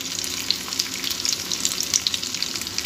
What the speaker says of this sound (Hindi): इस पोर्शन को, इस साइड को हम दोबारा से फ्राई करेंगे